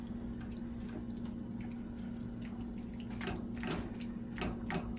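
Liquid from cooking taco meat drains through a strainer, a steady trickling pour with splashy bursts over a constant kitchen hum.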